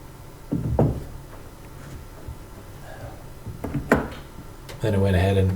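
Several sharp staple-gun shots fire staples into the back panel of a newly built cabinet, scattered across a few seconds with quiet gaps between the bangs.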